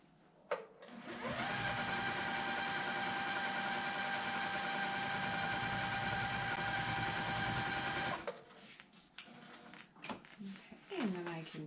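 A domestic sewing machine free-motion quilting a Blockheads 3 quilt, running in one steady, loud, continuous whir for about eight seconds before stopping, followed by light handling clicks and rustles.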